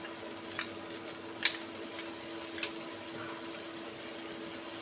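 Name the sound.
spice paste with cumin and turmeric frying in pan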